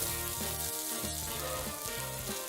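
A large onion fries in oil in a pan where coconut was just roasted, producing a dense, steady sizzle and crackle throughout, loud and close, with no talking.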